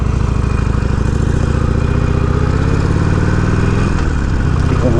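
A 2020 Harley Davidson Iron 1200 motorcycle engine rumbles loud and close with a pulsing beat, its tone shifting near the end as the clutch is pulled and gears change.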